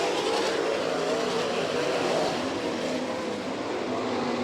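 All Star Circuit of Champions sprint cars racing wheel to wheel at Lima speedway in Ohio, a dense, continuous roar of several engines at full throttle, loud and unbroken throughout.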